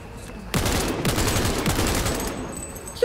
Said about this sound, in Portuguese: Para de atirar.